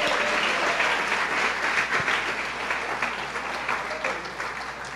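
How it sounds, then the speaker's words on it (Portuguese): A church congregation applauds steadily for the whole stretch, a dense, even wash of many hands clapping in a large worship space, with a few faint voices mixed in. "Dê uma salva de palmas ao Senhor."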